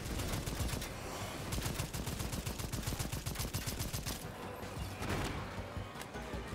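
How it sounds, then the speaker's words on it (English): Video game Second Extinction combat: sustained rapid gunfire with grenade blasts and crashing impacts, dense and continuous throughout, with no talk. "Use all my grenades. Fire in the hole."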